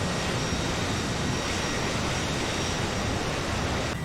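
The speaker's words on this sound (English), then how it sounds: "That's an inherent sound with Microsoft Flight Simulator, and you know, you wouldn't get that shaky sound in a aircraft like this." A Harrier jet in Microsoft Flight Simulator gives off a continuous, unwavering engine roar, a dense broadband rush that stays at constant loudness throughout.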